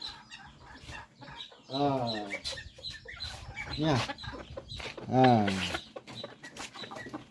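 Farm chickens cluck in short bursts at close range, with quieter chatter and a brief spoken remark between the calls.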